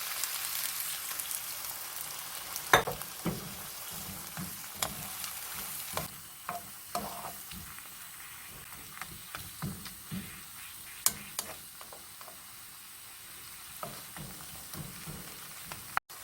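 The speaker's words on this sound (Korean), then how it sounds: "이 정도 된 새우를 같이 넣어서 볶을 거예요." Shrimp stir-fry with cucumber and a little added water in a pan, a low steady sizzle with repeated scraping strokes of a spatula, fairly quiet and close.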